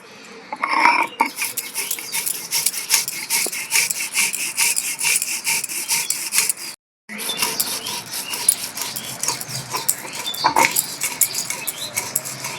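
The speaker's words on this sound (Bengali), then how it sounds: "আমি এখন পোস্তটা বেটে নিচ্ছি দু চামচ পোস্ত নিয়ে নিয়েছি কাঁচা লঙ্কা দিয়ে দিচ্ছি একসাথে বেটে নেবো" Poppy seeds being ground with green chillies into a paste on a stone, a steady rough scraping and rubbing that runs continuously with one brief pause, close and fairly loud.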